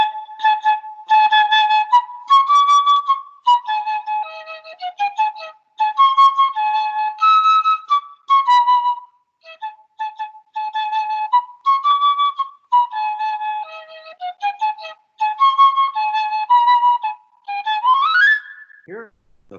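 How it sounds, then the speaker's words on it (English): A piccolo plays a bright, high melody of short and sustained notes with brief pauses, clear and close, ending with a quick downward slide; no one talks over it. "And it sounds like this, the piccolo."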